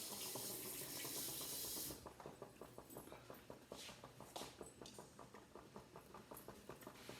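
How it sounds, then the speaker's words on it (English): Hands washed under a running kitchen tap: a loud steady water rush at first, then lower splashing with rhythmic rubbing and dripping, close by. "Wash my hands."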